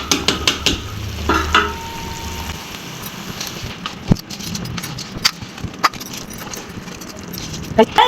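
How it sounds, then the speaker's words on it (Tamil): Rice being stirred into a boiling pot of mushroom biryani with valakkai chilli, giving a series of scraping, clattering spoon strokes over a steady bubbling hiss, close and fairly loud. "ரைஸை சேர்த்துக்கிட்டோம் இது கூட நல்லா கலந்துக்கலாம்"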